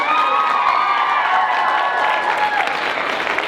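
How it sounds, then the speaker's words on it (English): An audience claps and cheers after a stage performance of the Addams Family, a steady loud wash of applause with whoops and shouts mixed in. "I think you guys deserve them a clap."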